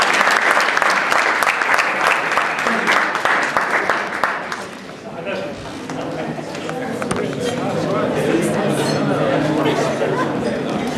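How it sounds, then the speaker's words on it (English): Applause from the audience at a pharmacy and doctor relationship discussion, a dense wash of clapping that sounds fairly close at first, then thins into scattered claps under crowd murmur and chatter. "a big clap to yourself for your patience"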